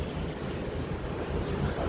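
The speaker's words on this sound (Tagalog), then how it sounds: "Maingay na yung ano, yung hangin, malakas yung hangin." Strong wind blows straight into the microphone outdoors in Taiwan, making a continuous loud roaring rumble with no speech over it.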